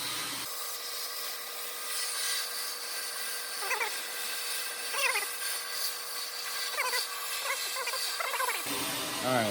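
A media blaster runs on compressed air at 80 PSI, sandblasting a part in a home garage with a steady, loud, broad hiss that fills the whole stretch, while faint voices speak briefly underneath.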